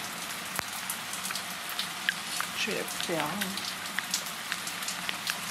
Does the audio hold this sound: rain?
yes